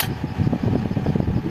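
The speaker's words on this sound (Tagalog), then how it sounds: "Talagang iikot yung ating electric fan." An electric fan runs on an inverter fed by a 12-volt LiFePO4 battery, giving a steady close whirring hum with a fluttering rhythm and no voices.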